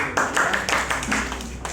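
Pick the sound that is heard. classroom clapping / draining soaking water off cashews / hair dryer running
classroom clapping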